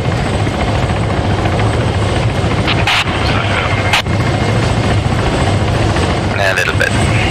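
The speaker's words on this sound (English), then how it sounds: "Let's get this shaky helicopter on the road." Military helicopter in the Arma 3 video game, a steady loud rotor drone with engine whine held throughout, with a couple of brief clicks over it.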